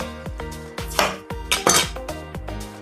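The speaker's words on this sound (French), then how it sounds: "Je vais couper des gros tronçons de pommes de terre" A kitchen knife chopping potatoes into large chunks on a cutting board, a quick series of close, sharp knocks about every third of a second with clinks of cutlery and dishes.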